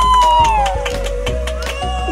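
A crowd at a local contest in Barangay Santo Niño claps and cheers steadily and loudly, with voices and a tonal sound running over the noise throughout.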